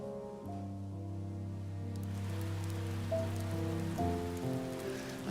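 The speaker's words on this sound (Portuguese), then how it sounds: "E se você está fora da cidade, no campo, a chuva é muito bem-vinda" Rain falling on a surface out in the countryside, a soft, steady patter that is fairly faint and sits beneath sustained tonal music.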